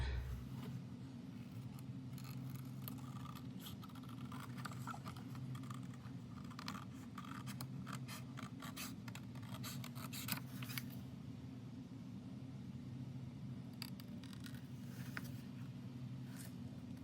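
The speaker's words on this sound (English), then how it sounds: "So I'm just going to cut around here. Just cut this piece" Scissors snip paper trimmed around a bookcase picture for an altered composition notebook, a run of soft, close, irregular cuts over a steady low hum, with no talking.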